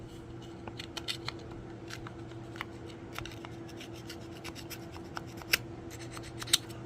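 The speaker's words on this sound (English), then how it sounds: "I want to run this across and scrape it so I get some connection" A multi-tool file blade scrapes across the terminals of a Realistic CB radio, giving faint, irregular rasping strokes with a few sharper scratches over a steady low hum.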